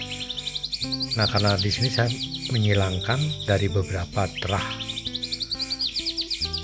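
A white-rumped shama sings loud, varied whistles and rapid chirping trills, with someone talking over the song.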